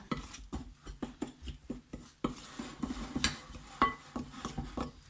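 Batter for tuna fritters is mixed in a bowl before the water and tuna go in, with a quick, regular run of close utensil clinks and taps against the bowl, loud and alone.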